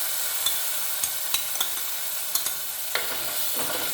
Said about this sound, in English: Let it crackle. While it's crackling, I'll put the curry leaves.